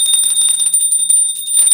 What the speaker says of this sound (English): And please ring the bell as you do so.